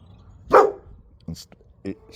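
A dog in a sunny garden neighbourhood lets out one loud bark, followed by a couple of shorter, quieter barks or yips, with a voice talking faintly underneath.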